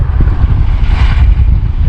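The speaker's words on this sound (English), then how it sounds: "Yeah, it is incredibly windy today." Strong gusty wind on a warm summer day near a Wisconsin state park buffets the microphone with a heavy low rumble, steady and loud throughout the short moment.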